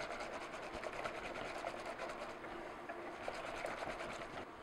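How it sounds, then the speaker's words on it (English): Whisking eclair custard cream in a pot over medium heat as it thickens: a steady, rapid scraping rasp that continues close and unbroken throughout, with no talking. "as I whisk, it's starting to get thick."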